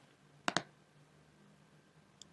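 Two quick, crisp mouse clicks close together, followed by quiet room tone and a faint tick near the end.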